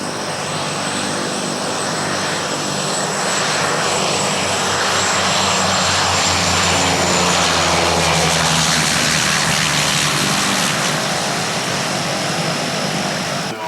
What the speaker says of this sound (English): There's one of our other planes landing.